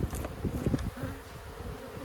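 Dense, continuous buzzing of many honeybees in an abandoned hive, a close low drone with a few louder passes as individual bees fly near.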